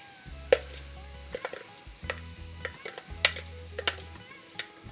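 Cabbage, carrots, onions and celery go into a pan for vegetable egg rolls, giving soft sizzling with scattered clicks and scrapes from stirring and a low intermittent hum underneath, close and fairly quiet.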